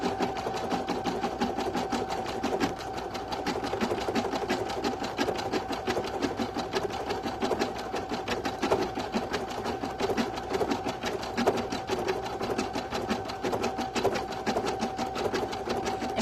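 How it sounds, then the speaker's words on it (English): An embroidery machine stitches an in-the-hoop stuffie in a steady, rapid needle patter that runs on without pause at moderate volume, with no talk. "if you're stitching a smaller size in the 6x10, you'll notice that this will actually stitch a lot faster because it's a smaller area stitch."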